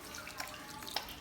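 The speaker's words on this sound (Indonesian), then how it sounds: "Kita nyalakan keran, basuh tangan dengan air" Water runs from a tap while hands are washed, making a soft, steady splash with a couple of brighter drips and splatters standing out.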